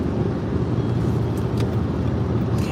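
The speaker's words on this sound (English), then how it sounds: "Okay, it's a truck." A truck passes close by as a loud, steady, broad rumble of road and engine noise that fills the whole stretch, with no talk over it.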